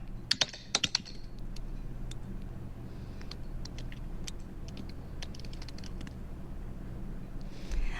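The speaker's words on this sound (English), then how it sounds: "I'm just typing in a chat." Quiet keyboard typing: a quick burst of sharp key clicks, then scattered taps over a low background hum.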